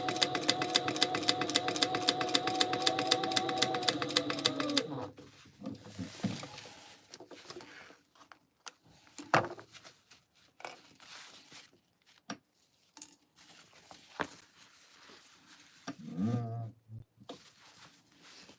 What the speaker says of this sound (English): So I'm just top stitching the top of each of the card slots right now.